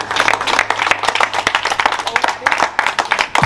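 A dense burst of clapping from a small crowd fills the whole clip, steady and close, with a few voices mixed in.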